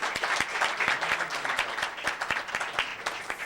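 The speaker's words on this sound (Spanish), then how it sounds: "Entonces, yo la verdad les pediría un aplauso muy fuerte para la licenciada Silvia Sámano." Applause from an audience at an advanced seminar on damages and losses, a dense steady patter of many hands clapping with a few sharper individual claps standing out, moderately loud and with no talk.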